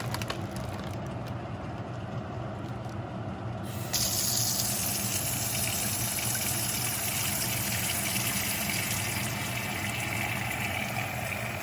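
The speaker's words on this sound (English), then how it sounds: "So I'm just gonna add water here." Water pours from a tap into a pot for spicy beef noodle soup, a steady gushing fill that grows louder and brighter partway through and continues unbroken.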